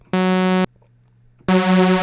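Two bright, buzzy sawtooth synth tones with a sharp edge, each held about half a second, separated by a short gap of silence.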